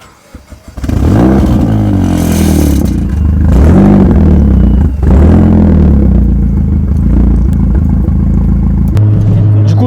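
A Porsche GT3 RS starts up with a short burst of cranking, then its engine roars loudly and steadily as it revs and pulls away, pitch rising and falling with gear changes and throttle.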